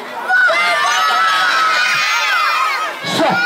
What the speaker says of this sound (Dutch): Als we met z'n allen heel hard gaan roepen, misschien hoort hij ons dan wel.